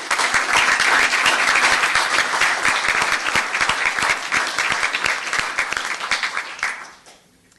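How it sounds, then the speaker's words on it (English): Attendees at a Los Gatos town council meeting giving a round of applause after an ordinance is adopted, brisk close clapping with distinct individual hand claps, tapering off and stopping near the end. "So let's give a round of applause to all of them."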